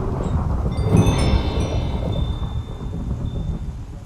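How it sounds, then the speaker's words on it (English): Heavy thunderstorm with rain in the Minecraft TerraFirmaCraft game, a loud continuous roar of rumbling thunder and steady downpour lasting throughout, with no talking. "This is a heck of a thunderstorm, goodness."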